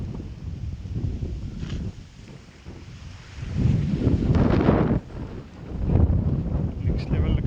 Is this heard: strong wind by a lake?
yes